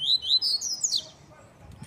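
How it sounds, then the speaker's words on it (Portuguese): A caged coleiro (double-collared seedeater) sings a short, loud, high run of bright chirps up close, then falls quiet with faint background noise. "Passarinho muito bom, canta alto."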